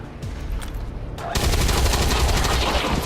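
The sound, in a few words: officer taking a shot in the video game XCOM 2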